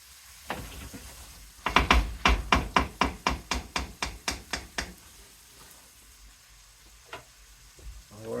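Taco meat fries in a pan, with a quiet sizzle under about a dozen evenly spaced scraping strokes that fade out. A few softer knocks follow.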